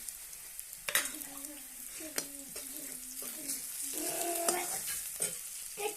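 Peanuts frying in oil in a pan, a quiet sizzle broken by sharp clatters of stirring, with some brief tonal sounds in the background.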